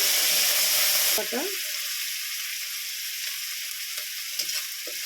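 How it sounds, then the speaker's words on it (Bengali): Onion and vegetables hitting hot oil left over from frying fish give a loud, bright sizzle for about a second, which then drops to a softer, steady crackle with faint stirring and a brief voice. "এবার আমি ওই একই তেলে আমি তরকারিটা তুলে দিচ্ছি, মশলা কষে নেব। পেঁয়াজটা দিয়ে দিচ্ছি"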